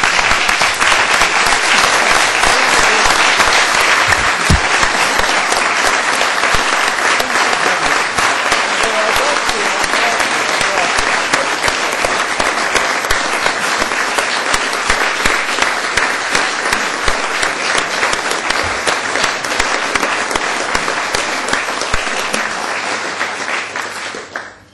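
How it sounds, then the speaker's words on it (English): Council members rise and give a long, steady round of applause in a chamber meeting, loud dense clapping sustained for about twenty-five seconds before tapering at the end. "I'd like to invite the entire council to rise and give Mr. Foot a round of applause"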